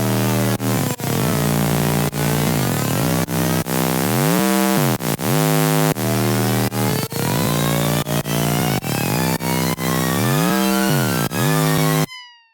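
A loud, buzzing synth rhythm runs through a phase flanger after EQ and saturation, with steady pulsing hits and sweeping, whooshing comb-like swirls, then cuts off abruptly at the end.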